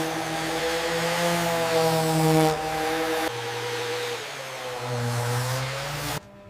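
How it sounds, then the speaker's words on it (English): A power sander drones steadily on wood, a continuous buzzing whine that shifts pitch slightly and cuts off abruptly near the end. "Sanding machines and hand sanding remove rough edges and imperfections."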